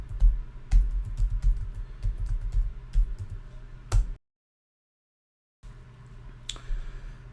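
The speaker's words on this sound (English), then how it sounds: "I'm going to type it correctly this time." Password typed on a computer keyboard: a quick run of close, crisp key clicks, then a short silent gap and a few more taps.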